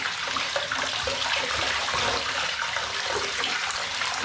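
Water runs steadily from a tap in a shower to rinse off a container that leaked a little during a flight, a continuous broadband splashing hiss that stays loud and even throughout with no voices.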